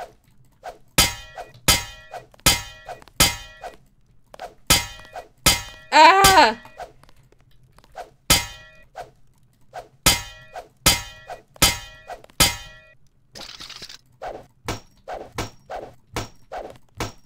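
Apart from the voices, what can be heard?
smashing an object in the video game Deus Ex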